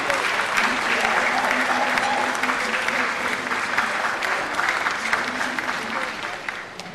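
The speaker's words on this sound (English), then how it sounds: "Another warm welcome by way of applause would do." A big audience at the Diaspora Summit in Ghana applauds steadily as a chief is welcomed onto the stage, thick and continuous with a faint murmur of voices underneath.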